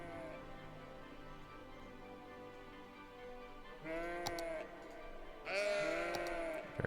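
Sheep bleats in the Cities: Skylines city-building game, two wavering calls in quick succession that ring out clearly over a steady low ambient hum.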